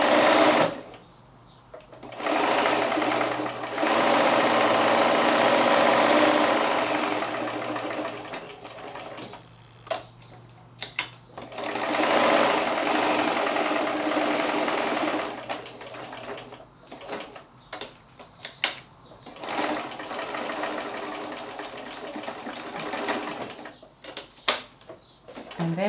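Sewing machine stitching elastic onto a felt notepad cover, a steady rapid mechanical chatter in long runs with short pauses between them.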